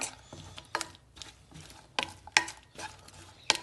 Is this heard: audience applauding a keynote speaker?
no